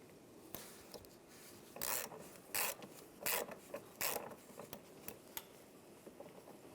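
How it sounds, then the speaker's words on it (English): A 10mm socket on a ratchet backs out the battery hold-down bolt of a Ram 1500. The sound is a series of close, quiet rasping bursts, about five longer ones with faint clicks between them. "Using a 10mm socket, we're going to take the bolt out for the hold down."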